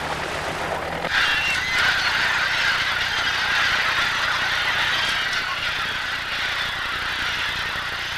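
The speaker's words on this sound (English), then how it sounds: "This flock of seagulls appears to be attacking something in the sea." A flock of seagulls calls over the sea, a dense chorus of overlapping shrill cries that carries on steadily throughout, mixed with broad wind and water noise.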